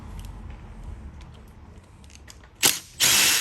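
Bolts coming undone in a cross pattern on a Vespa GTS, with faint ticking and handling noises, then a short sharp whirr of a power tool followed by a longer steady burst.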